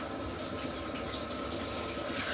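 Kitchen tap running steadily while peas and other food for Jamaican stew peas are washed, a close, loud, continuous rush of water filling the whole clip with no talk.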